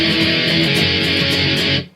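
Electric guitar strums the chorus chords of a song, a loud, dense and steady sustained chord pattern that cuts off sharply near the end.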